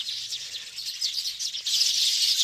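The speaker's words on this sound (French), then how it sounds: "Vous entendez les sons des oiseaux le matin." Morning birdsong at a farm in Kasangulu, DRC: a dense, continuous chorus of high chirps and twitters, fairly close and steady, growing a little fuller toward the end, with no voices.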